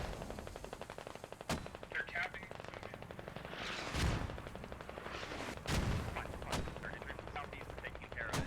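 A 30mm gun turret in a multiplayer military video game fires short bursts amid constant battle noise, with sharp reports near 1.5, 4, 5.7 and 6.5 seconds over a dense background of distant gunfire.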